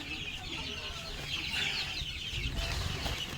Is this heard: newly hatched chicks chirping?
yes